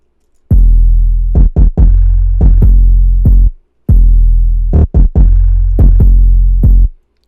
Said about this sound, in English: So together the 808 sound like this.